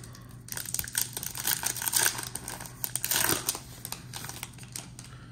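Ripping open a pack of 2022 Panini Illusions football cards, with close, crinkly foil tearing and rustling in uneven bursts over about five seconds, no talking.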